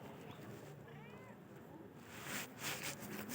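A cat gives a single faint, short meow against quiet background noise, followed by soft rustling.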